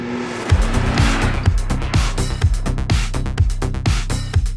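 McLaren Artura supercar powering around Cadwell Park circuit, its gruff, mechanical engine note loud and close, rising through rapid repeated gear changes with sharp revs and shifts alone, no talking.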